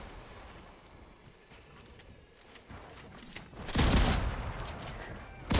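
Shotgun blasts in a multiplayer shooter video game: a dense burst of loud gunfire and impacts near the end, following a quieter stretch of muffled game action.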